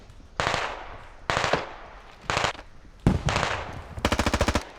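Gunfire from the military shooter game Squad comes as five loud bursts of automatic fire, each lasting under a second and separated by short gaps, with the last burst a rapid, distinct rattle.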